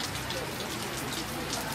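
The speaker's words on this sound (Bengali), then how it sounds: "আর এখানে হচ্ছে প্রচণ্ড বৃষ্টি" Heavy rain pouring in Darjeeling on Mall Road, a dense, even hiss of drops hitting surfaces, steady and loud throughout with no break.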